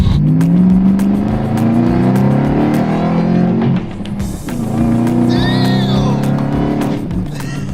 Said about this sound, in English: Dude, that supercharger sounds mean